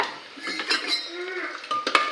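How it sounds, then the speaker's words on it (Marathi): Metal utensils clink and scrape against a pot of dal while the tempering oil sizzles softly underneath, a few sharp taps near the end. "मस्तपैकी वरणाला फोडणी दिली"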